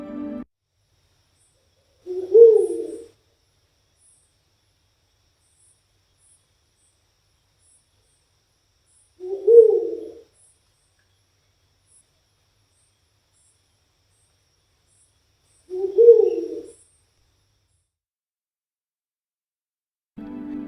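An owl calling three times at long, even intervals, each a short low hooting note in otherwise near silence.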